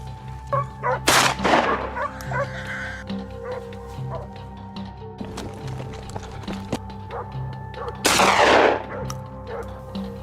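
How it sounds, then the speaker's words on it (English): Two loud, sharp bursts of gunfire a few seconds apart, ringing out over a busy outdoor background of wild hog herd noises and movement on a ridge during a hunt. "After a thunderous burst of gunfire, the herd began to scatter."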